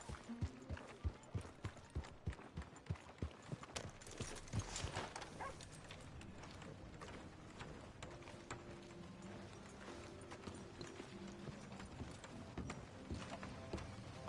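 Horse hooves clip-clop in Red Dead Redemption 2, a run of sharp regular steps up close at first, then fading into softer, steadier footfalls under a low in-game ambience with faint mechanical rattles.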